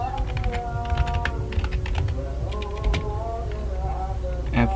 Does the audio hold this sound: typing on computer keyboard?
yes